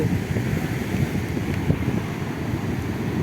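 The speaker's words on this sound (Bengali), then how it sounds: "এত সুন্দর বীচ বিশাল হাওয়া বিশাল ঢেউ" Constant roaring wind buffeting the microphone with a low, rumbling wash of big surf beneath at Puri beach, loud and unbroken throughout.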